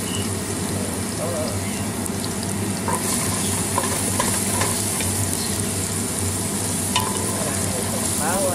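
Chopped garlic fries in a hot pan while being stirred, a loud continuous sizzle with scraping utensil strokes and occasional clinks, in a home kitchen with faint background noise.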